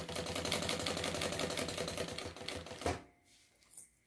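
A sewing machine stitches through a layered sandwich of lining, zipper and outer fabric for a trapezoid toiletry bag, a fast, even mechanical rattle that stops abruptly, followed by a faint click.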